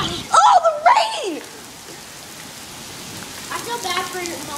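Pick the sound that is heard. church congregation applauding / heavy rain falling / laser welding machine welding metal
heavy rain falling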